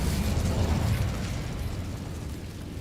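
In the Hogwarts Legacy video game, the Incendio fire spell sets off a dense, rumbling whoosh of flame that starts strong and slowly fades over a few seconds, with no talking over it.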